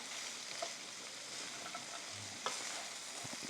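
Sausage and cornbread chunks are folded together in a pan. Soft scraping and stirring sit over a low, steady sizzle of frying grease, with a few faint knocks. No one talks.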